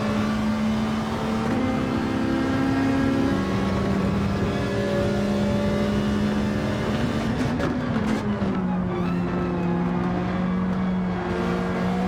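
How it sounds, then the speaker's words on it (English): A Ferrari racing car engine drones loud and steady from on board at high revs, its pitch holding, then dipping and shifting through gears as the car runs wide onto the marbles on track; no voices. "Always nice to hear that Ferrari engine"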